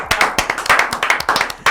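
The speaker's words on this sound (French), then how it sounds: "Mesdames et messieurs, je vous demande d'applaudir la Bastos" An audience claps for a slam poet at a slam playoff event, loud and close, with sharp hand claps in an uneven, building rhythm.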